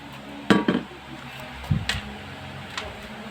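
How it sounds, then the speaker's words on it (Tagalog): Utensil clinking against a bowl while white onion, mayonnaise and cheese are mixed for empanada filling: a few sharp taps and scrapes at close range, separated by quiet pauses, with no speech. "I-mix natin ang white onion, tsaka cheese."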